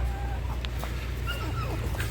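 Chickens cluck and chatter faintly under a steady low hum, with short bird-like calls scattered through.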